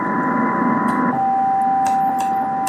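A two-tone test signal plays through an HF radio receiver as a steady, constant pair of tones over a noisy, hissy background, with faint clicks scattered throughout.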